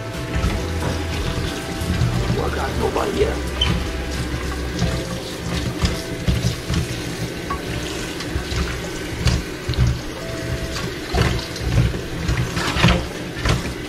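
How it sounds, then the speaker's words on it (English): Green beans are rinsed under a running kitchen tap, with water splashing steadily and continuously close by, broken by faint handling clatter. "just wash to give them a good wash. Always gotta wash these guys good."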